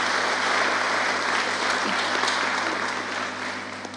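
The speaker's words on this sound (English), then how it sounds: "kindly just give them a round of applause" Steady audience applause at a memorial gathering, a dense wash of many hands clapping that stays loud and even before easing slightly toward the end, with a low constant hum beneath.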